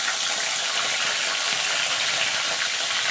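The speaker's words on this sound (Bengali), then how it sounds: "তেলটা গরম হয়ে গেছে। ইলিশ মাছের মাথাগুলো ভেজে নেব।" Hilsa fish heads frying in hot oil in a kadai, with a loud, dense, unbroken sizzle heard up close.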